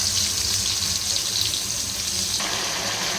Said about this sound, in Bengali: অল্প একটু জল দিলাম।